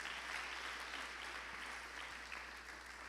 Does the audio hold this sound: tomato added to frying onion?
no